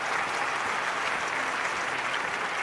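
A stadium crowd applauds steadily in a track-and-field event of the London 2012 Olympic Games video game, a dense, even wash of clapping that continues throughout without a break.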